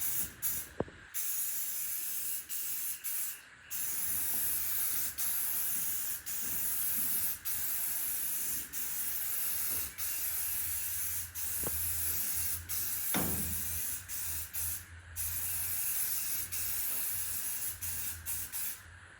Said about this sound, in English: So there's my first coat of primer